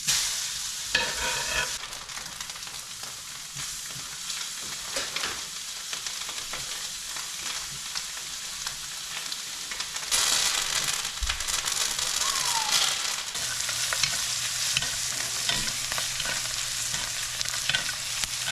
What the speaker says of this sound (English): A little olive oil. Oh, satisfying sizzle.